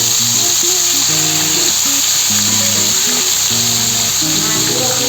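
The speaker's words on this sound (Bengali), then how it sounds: "তেল গরম হয়ে গেছে, এখন আমি মাছগুলোকে ভেজে নেব।" Pieces of catla fish fry in hot oil with a loud, constant sizzle, and a muffled voice can be heard underneath.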